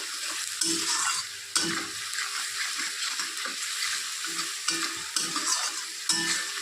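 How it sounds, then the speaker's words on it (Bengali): Ground spices with Kashmiri chili powder sautéing in a pan while being stirred, a steady close sizzle broken by repeated scraping strokes of a spoon at a regular pace. "আর দিয়ে দিচ্ছি কাশ্মীরি চিলি পাউডার এটা ঝাল হবে না কালারের জন্য হাফ চামচের একটু কম দিয়ে ভালো করে কষাতে হবে মশলাটা"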